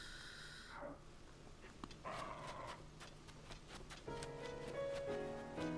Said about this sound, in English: Oh, I heard the dog. I was like, are there monsters here? No, it's a dog.